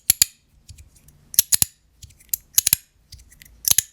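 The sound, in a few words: Chenyu Zirc bamboo slider magnetic fidget toy clicking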